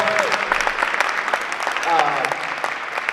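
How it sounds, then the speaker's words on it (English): An audience applauds a panel at a youth entrepreneurship event, with brisk, close claps continuing throughout under intermittent talking. "Let's give our panel another big round of applause."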